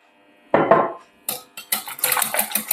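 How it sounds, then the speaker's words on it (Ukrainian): A whisk beats sugar in a bowl for a crepe batter, giving irregular metallic clinks and scrapes close up, starting with one soft knock and then quickening into busy clatter. "збиваємо вінчиком до однорідності"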